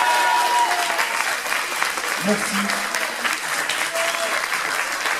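An audience at a cosplay parade event claps for the sound engineer in a burst of applause, while a voice briefly speaks over it.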